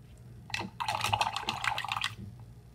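A paintbrush is rinsed in water, giving a short burst of splashing and swishing in a cup at close range, sloshing for about a second and a half before it stops.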